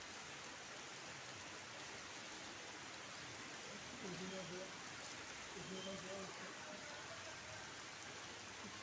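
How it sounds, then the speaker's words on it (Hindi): Heavy rain falls in a dense, steady hiss that fills the whole stretch, with faint voices murmuring underneath partway through. "बारिश इतनी तेज है कि आप लोग या तो भीगते हुए घर जाना पसंद करेंगे।"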